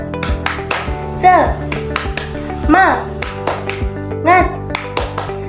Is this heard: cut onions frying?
no